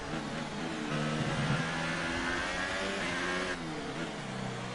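A Formula 1 car in the racing game F1 2018 screams through a lap, its high engine note rising and falling with gear changes, steady and fairly close, with no talking over it.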